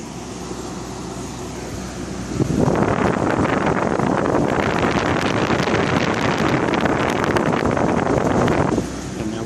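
A Masterkool 25EX evaporative air cooler with water-soaked cooling pads blows a steady, loud rush of air that starts abruptly, holds evenly for several seconds, then drops back, heard close up without speech.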